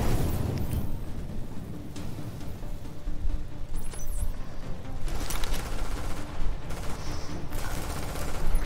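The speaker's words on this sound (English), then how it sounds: "You shooting at me from long range with a shotgun?" Gunfire in the video game The Division rattles on in dense, continuous bursts of rapid shots and booming impacts, loud and close throughout with no pause.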